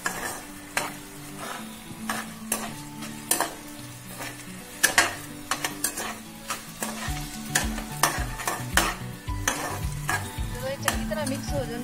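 Desi-style noodles stir-fried and tossed in a pan, with repeated scraping and clattering strokes over a steady sizzle, close and fairly loud throughout.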